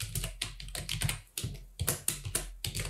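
Python code being typed on a computer keyboard: a quick, uneven run of close, crisp key clicks with short pauses between bursts, with no voices.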